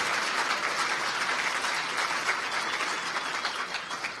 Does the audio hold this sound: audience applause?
yes